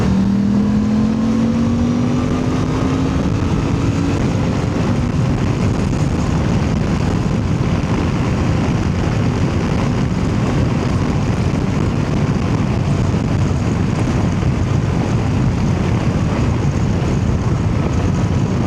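A Suzuki V-Strom 800DE two-cylinder motorcycle engine pulls hard while overtaking a car, its steady drone rising in pitch early on, heard under constant wind rush at close range.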